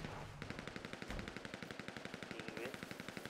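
Rapid automatic rifle fire in FiveM, the multiplayer mod of a crime-themed driving game, comes as a fast, steady string of sharp, evenly spaced shots that runs the whole length without pause and with no voices.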